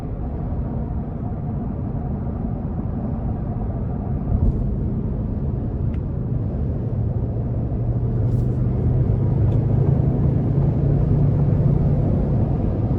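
A 2024 Lincoln Navigator with a 3.5-litre twin-turbo V6 pulls hard under acceleration, its low engine rumble swelling steadily louder over a constant bed of road noise from inside the cabin.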